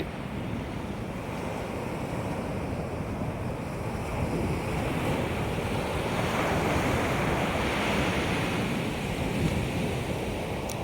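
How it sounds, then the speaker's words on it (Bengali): Sea waves roll in along the beach at Cox's Bazar, a continuous loud surf roar mixed with wind buffeting the microphone, swelling slightly midway, with no voices. "সাগর পাড়ে দাঁড়িয়ে আছি কক্সবাজার সমুদ্র সৈকতে দাঁড়িয়ে আছি"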